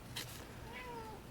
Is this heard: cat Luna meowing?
yes